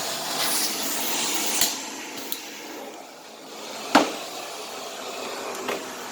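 A Perfect cordless power head on a retractable-hose central vacuum runs with a steady broadband whoosh throughout, with a few brief knocks and a short dip in level midway.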